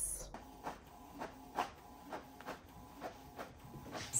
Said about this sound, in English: So it is printing our calibration sheet here.